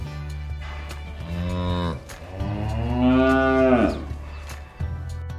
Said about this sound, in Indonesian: Ini ada satu ekor kerbau.